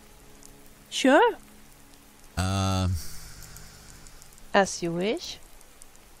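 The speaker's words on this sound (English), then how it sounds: "As it's raining so badly, maybe we should head for an inn" Steady rain patters in Skyrim survival mode, a constant soft wash heard beneath a few short lines of game character dialogue.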